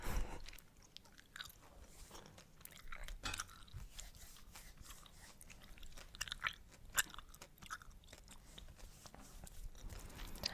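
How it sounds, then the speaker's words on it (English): Someone chews gum with an open mouth, close to the microphone, for ASMR. Wet smacking, clicking and squishing sounds repeat in a steady, irregular rhythm, with no talking. "I don't usually chew chewing gum with my mouth open"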